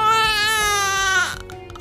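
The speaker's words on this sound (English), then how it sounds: "a baby crying" An infant wails in a loud, sustained cry with a strained, tonal voice, the cry breaking off near the end into short, choppy sobbing breaths.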